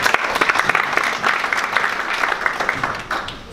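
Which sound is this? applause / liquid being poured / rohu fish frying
applause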